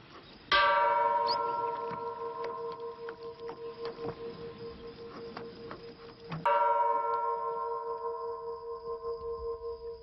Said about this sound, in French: Quand sonne la cloche du soir, les moines retournent vers le centre de l'île